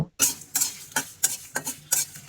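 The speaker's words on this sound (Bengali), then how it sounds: "একটি খালি কড়াইয়ে ভালোভাবে বেজে নিব" Dry whole pickle spices (coriander, cumin, panch phoron, fennel, cardamom and dried chillies) stirred in an empty wok, a rhythmic series of scraping, rattling strokes about every half second, close and fairly loud with no talk.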